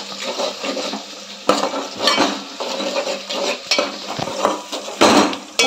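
Spoon clattering and scraping through a sour gongura mixture in a metal pot, a busy run of clinks and wet stirring strokes with a few louder knocks, close by and without any talk.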